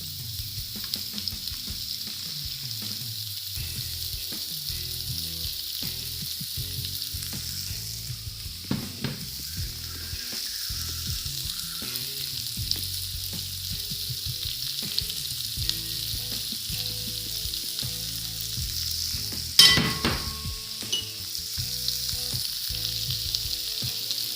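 Spring roll vegetables fry in a large pan, giving a steady broadband sizzle with scattered stirring clatter and one sharp utensil knock near the end; no voices.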